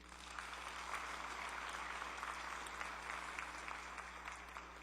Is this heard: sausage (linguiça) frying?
no